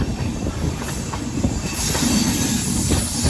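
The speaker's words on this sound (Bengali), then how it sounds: "লাস্ট ট্রেন ঢুকছে মারুতি পাতপুর স্টেশনে।" A train pulls into Maruti Patpur station with a loud, close rumble, rhythmic wheel clatter and a high metallic squeal of wheels running above the roar throughout.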